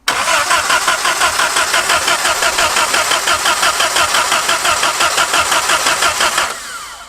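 The engine of an abandoned 80-year-old Jeep cranks with a fast, even rhythmic chugging of the starter for about six seconds, loud and close, before dropping off as the cranking stops.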